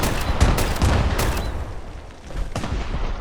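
An auto grenade launcher fires in the Fallout 76 video game, a dense run of booming, blast-like shots and explosions that repeat in a rough rhythm, loud and close throughout with no talking.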